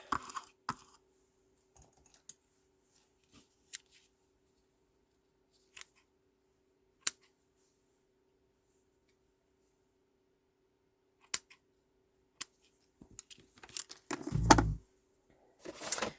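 Scissors cutting paper and twine while making a card, a few sparse sharp snips and clicks spread out across a mostly silent stretch, with a louder rustle and handling noise near the end.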